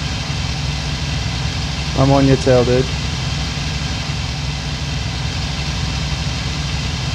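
The engine of a Hawker Hurricane fighter in a flight video game drones as a steady, dense roar through the whole stretch, with a voice talking briefly over it.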